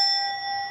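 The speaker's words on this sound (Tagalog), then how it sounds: "i-click mo lang ang notification bell." A bright bell-like notification ding rings once with sustained harmonic tones, loud and clean, ringing steadily through the short moment.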